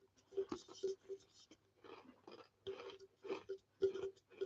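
Crunchy caramel biscuits being chewed close to the mic in a series of crisp, irregular crunches with short pauses between bites.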